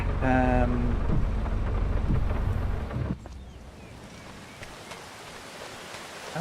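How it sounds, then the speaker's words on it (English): Rain falling in the farming game Farming Simulator 25, a steady broadband wash that is loud at first, then drops to a softer, sparser patter partway through, with no talk over it. "Oh, it started raining."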